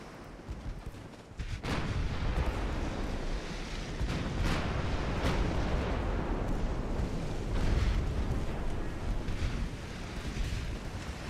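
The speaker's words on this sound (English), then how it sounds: "torpedo detonation on one of their heavy cruisers already" A torpedo detonates against a heavy cruiser in the naval game Ultimate Admiral Dreadnoughts, a deep rumbling explosive roar that swells after a brief quiet and keeps rolling under scattered booms and crackles.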